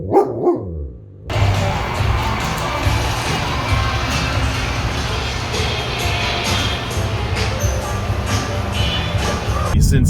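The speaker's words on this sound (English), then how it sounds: "You're the worst guard dog ever." A dog's barking, likely from a guard dog, rises above a steady dense noise bed that reads like a busy crowd, staying loud and continuous throughout after a brief quieter start.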